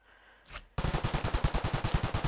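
Minigun fire from a Minecraft gun mod bursts in after a short whoosh, a rapid, steady stream of close, loud video-game shots.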